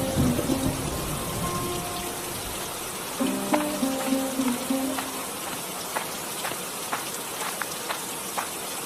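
Rain falls steadily on village farmland in an animated cartoon, with scattered drips and patters, joined by faint sustained tones early on, and no one speaking.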